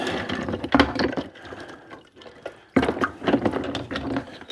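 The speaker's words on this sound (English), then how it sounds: "These are the bolts that come off this. So we'll put them in there too." Metal bolts and nuts dropped and stirred into a container of homemade rust remover liquid: close sloshing and splashing with clinks of metal, two busier bursts around a quieter middle.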